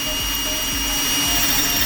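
A power drill fitted with a masonry bit bores into driftwood, giving a loud continuous whine and grind with a faint regular pulsing throughout, close up and heard alone.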